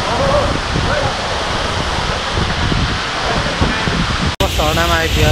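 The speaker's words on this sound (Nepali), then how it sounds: "झरनामा आइपुगेका छौँ।" A waterfall along the trekking route to Tilicho Lake in Nepal pours out a steady broadband roar with wind buffeting the microphone. The rush continues almost without a break, then a voice briefly speaks near the end.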